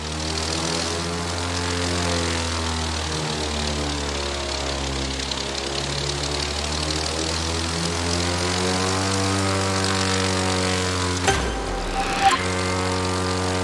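A propeller airplane's engine drones steadily in The Crew 2 as the plane flies a full loop, its buzzing pitch slowly sliding up and down, loud and alone with no talk.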